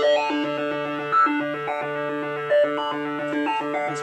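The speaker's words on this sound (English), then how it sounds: "Or if we assign the sample and hold LFO shape, it sounds like this" XS synthesizer with oscillator sync and a sample-and-hold LFO, stepping between random pitches in a choppy, repeating sequence of buzzy notes, sustained alone at moderate volume.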